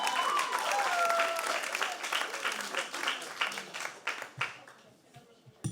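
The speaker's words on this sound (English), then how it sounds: "If you guys could give a round of applause for the poster boards" An improv comedy audience at the Irvine Improv breaks into applause, strong at first and thinning into scattered claps as it fades, with a few voices mixed in.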